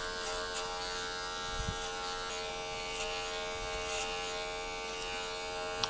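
Electric hair clippers fitted with a 9mm guard buzz steadily while cutting thin, sparse hair on a middle-aged man's head, a continuous close hum with small bumps as the blade moves through the hair.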